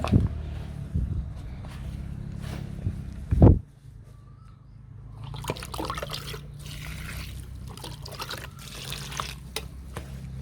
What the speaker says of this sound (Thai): น้ำจุลินทรีย์ใส่แค่พอชื้นเท่านั้นค่ะ